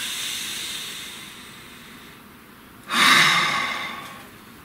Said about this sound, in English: So take a nice deep breath.